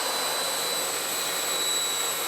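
Steady, loud jet engine whine from a Jet Provost JP5 trainer idling near the runway after landing, a continuous broadband roar with high-pitched turbine tones throughout and no voices.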